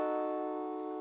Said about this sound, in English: A seventh chord sounds like this.